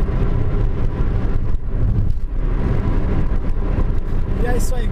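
Car engine droning while cruising on a highway during a road trip from São Paulo to the Northeast, a loud steady rumble with road and wind noise, heard close from inside the car.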